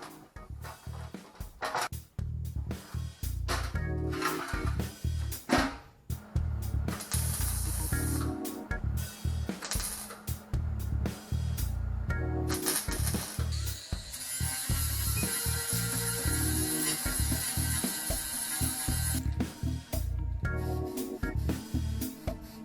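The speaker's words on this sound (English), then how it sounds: "I'm going to weld this up." Welding on a Chevy S10 truck: sputtering, crackling hiss in uneven bursts with short pauses, growing into a long steady sizzle near the end, close and fairly loud with no talking.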